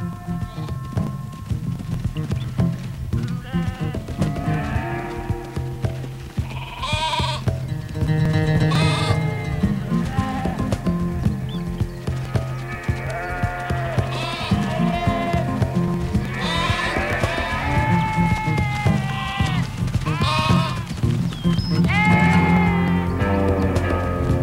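Sheep bleat repeatedly in a mixed flock, with a donkey and mule nearby, several overlapping animal calls sounding loud and close throughout, with no talking.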